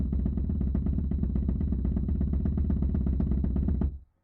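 A double stroke roll on a drum, a fast, even, continuous stream of close, dense strokes held for nearly four seconds before stopping abruptly, with no voices.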